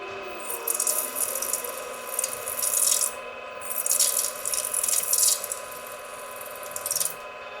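A drill bit bores into a knife blade clamped in a vise, a close, rattling high-pitched grinding that comes in repeated bursts with short pauses, and no voices.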